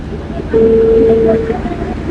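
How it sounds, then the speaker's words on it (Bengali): The Benapole Express train at a railway crossing sounds a steady horn-like tone for about a second over a rumbling, noisy background. "ওই যে ট্রেন আসতেছে আরেকটা ক্রসিং করবে"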